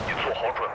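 Missiles fire in the war strategy game Wargame: Red Dragon, a short burst of booming launches and whooshing, mixed under game sound.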